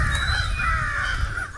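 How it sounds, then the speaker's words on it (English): Crows caw loudly nearby in an old cemetery, harsh repeated calls overlapping against a low background hum. "Hear the crows calling."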